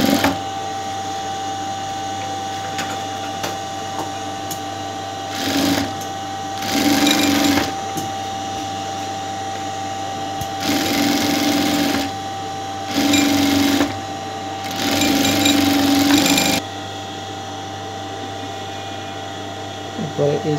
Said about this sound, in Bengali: চেকটা মিলিয়ে নিয়ে শোল্ডারটুকু সেলাই দিয়ে নেবো আমরা আগে সবার আগে